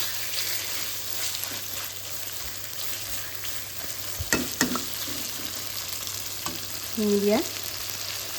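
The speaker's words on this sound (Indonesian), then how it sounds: "Ini dia penampakan dagingnya, lagi kita tumis." Pork pieces sautéed for rica babi, stirred now and then in a hot pan, give off a steady broad sizzle with scraping stir noises and a brief short voice near the end.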